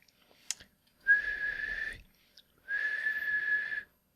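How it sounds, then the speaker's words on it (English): A person whistles a high note twice, with each steady tone lasting about a second. A short pause falls between the two notes, and a faint click comes before them. "Try to whistle a high note."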